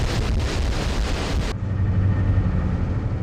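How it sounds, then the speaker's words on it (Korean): A hospital ship pushing through high waves at sea, heard as a loud, constant roar of wind and water, with the hiss cutting off abruptly midway and leaving a deeper, low rumble of engine and hull. "높은 파도와 싸우며 다음 섬으로 향하는 병원선"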